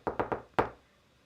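Someone knocks on a household wall that backs onto a bathroom: three quick raps, then a single knock after a short pause. The knocks are fairly soft and muffled, with no voices.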